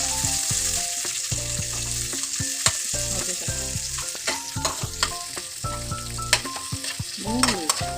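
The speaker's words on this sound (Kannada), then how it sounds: "ಕ್ಯಾಪ್ಸಿಕಮ್ ಮತ್ತು ಕ್ಯಾರೆಟನ್ನು ಈ ಆಯಿಲ್ ಅಲ್ಲಿ ಹಾಕೊಳ್ಳೋದು ಓಕೆ ಸ್ವಲ್ಪ ಈ ತರ ಇದನ್ನು ಸ್ವಲ್ಪ ಫ್ರೈ ಮಾಡಿಕೊಡಬೇಕು" Capsicum and carrot stir-fried in oil for street-style noodles: a loud, steady sizzle broken by repeated scraping and clanking of a spatula against the pan in an uneven rhythm, close up, with no speech.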